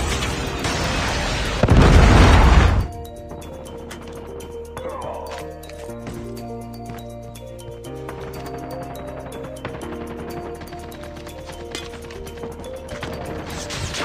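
Missile explosions in Call of Duty gameplay: a loud roaring blast swells and cuts off abruptly, followed by a softer stretch of clinks, pops and game sounds.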